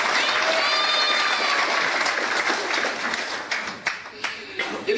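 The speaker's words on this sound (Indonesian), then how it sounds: "Tepuk tangan untuk dia" Church congregation applauding steadily across the room, a dense wash of clapping that thins toward the end, with a voice speaking over it.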